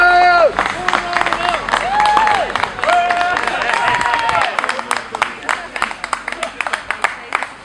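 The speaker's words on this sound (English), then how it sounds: "Guys, round of applause there." A gathered crowd applauds outdoors, scattered claps building into a crisp, close round of clapping after raised voices talk over the start.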